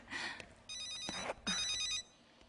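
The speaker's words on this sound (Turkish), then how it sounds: "kızım telefon çalıyor" A mobile phone rings indoors in a hospital setting, two bursts of a bright electronic ringtone pattern, clear and fairly close, with no talking over it.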